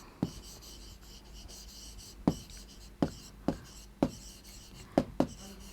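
A pen or chalk writes an English sentence on a class 4 lesson board, making faint scratchy strokes punctuated by sharp, quiet taps at irregular intervals, with no talking.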